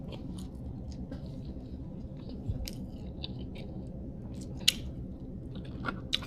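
Close, wet chewing of steak dressed with lemon juice in a mukbang, a continuous run of soft squishy bites and small clicks with no talk.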